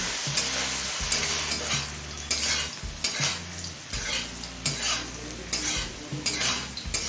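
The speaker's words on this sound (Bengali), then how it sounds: "এবার এই আলুটা লাল হয়ে আসা পর্যন্ত ভেজে নেব" Potatoes and slit green chillies fry in a pan with a steady sizzle while a metal spatula scrapes and clatters against the pan in repeated rhythmic strokes, close and clear.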